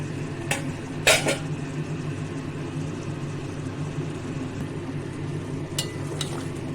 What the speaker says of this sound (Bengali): এবার আমি ঢাকনা খুলে দেখে নেব